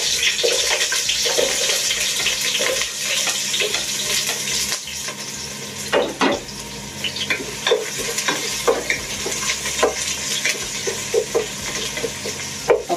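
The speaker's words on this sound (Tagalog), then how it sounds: "magigisa po tayo ng sibuyas at bawang para sa ating munggo" Onions and garlic sautéing in a pan for Filipino mung bean stew, with a steady close sizzle and repeated spatula scrapes and stirring clatters throughout.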